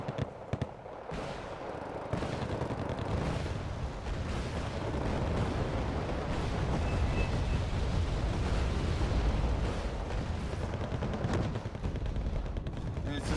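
Artillery fire support in the war strategy game Wargame Red Dragon, a dense, continuous roar of overlapping blasts and rumbling booms that stays loud throughout after a brief quieter opening.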